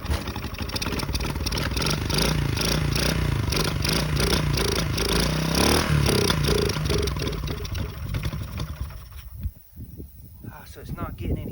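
A 1972 Honda SL70 small motorcycle engine running steadily after a kick-start, a loud continuous rattly idle with some revving, dying down near the end as someone talks briefly.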